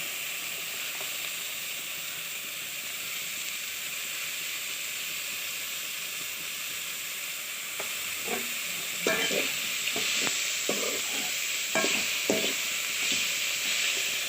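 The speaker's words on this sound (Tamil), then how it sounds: "அவ்வளோதான் நல்லா வதங்கிடுச்சு" Carrot chutney ingredients sautéing in a pan, a long even frying hiss that stays steady at first, then picks up a run of spatula scrapes and clinks toward the end, close by with no speech.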